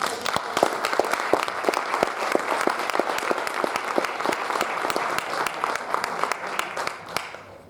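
Audience applause after a speaker is introduced at a community event about women, steady dense clapping for several seconds that tapers off at the end, with no speech over it.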